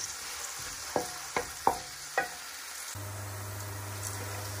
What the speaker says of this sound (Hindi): ऑयल गर्म हो गया, अभी ऑनियन ऐड करते हैं इसमें और इसे अच्छे से करते हैं मिक्स।